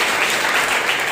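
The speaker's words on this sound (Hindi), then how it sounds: "एक जोरदार ताली बजे सबके लिए" A church congregation at a Sunday morning service breaks into loud, dense applause, many hands clapping together in a steady sustained burst.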